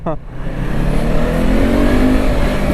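A Yamaha R25 motorcycle with its original catalytic converter and a factory exhaust revs close by, rising loud and sustained after a brief voice at the start.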